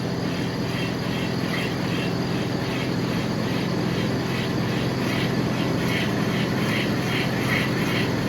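A guide and seat machine hones a rod bushing, a steady whirring drone with faint rhythmic pulsing that runs unbroken throughout at a constant level.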